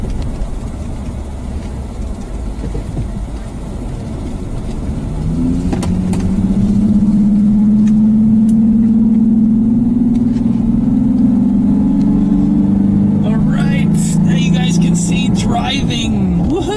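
A car engine drones steadily while driving on a storm chase in Oklahoma or Texas, rising in loudness partway through, with a low hum and road roar, and people cheering and talking over it near the end.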